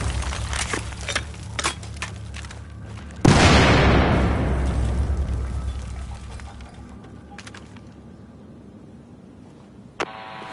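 A large in-game explosion in Battlefield 4 detonates with a sudden loud boom, its roar slowly decaying over several seconds amid battlefield ambience and scattered gunfire, with a smaller pop near the end.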